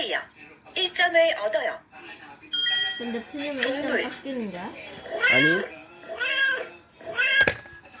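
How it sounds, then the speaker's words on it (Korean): A cat meows repeatedly as a sound-quiz clue, several distinct rising and falling cries spaced across the stretch, close and clear, with a chime-like tone partway through. "정답은 고양이."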